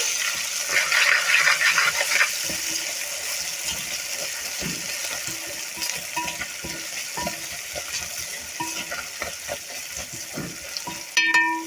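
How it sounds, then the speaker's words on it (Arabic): Chopped garlic is tipped onto onions frying in a pan and stirred, giving a louder sizzle at first, then a steady soft frying hiss with scraping and clinking of the spoon against the pan. "نضيفها كده على البصله تقليبه حلوه"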